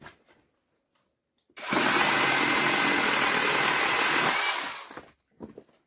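A BITOON cordless mini chainsaw running on a DeWalt 20V battery cuts through a piece of hardwood, a loud, steady high-pitched whine lasting about three seconds that starts and stops abruptly, with quiet moments on either side.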